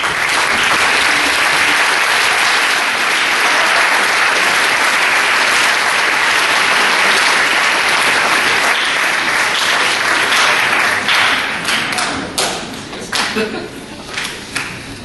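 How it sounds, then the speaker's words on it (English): A school crowd applauds at a high school yearbook dedication, loud sustained clapping that thins into scattered individual claps near the end. "thank you for the round of applause because they certainly deserve it"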